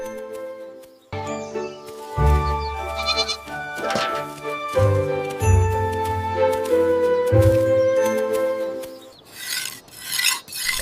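Young goats in a countryside field bleating in repeated wavering calls, several overlapping cries close by, with rasping rubbing noises between them and no talk.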